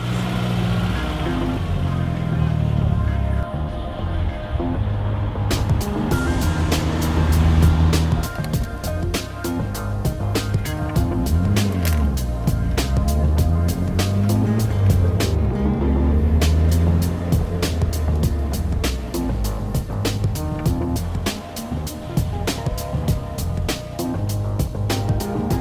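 Car driving on a street in real-world conditions, a steady engine and road rumble throughout with shifting revs and passing whooshes, faint ticking clicks scattered through the middle.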